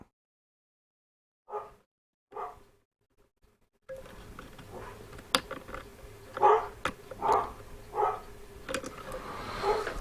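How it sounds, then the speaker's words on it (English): Dogs bark in the distance, a few separate barks, some muffled in quiet and others over background noise near a workbench. "Sounds like I've got to sort these dogs out and give them a telling off"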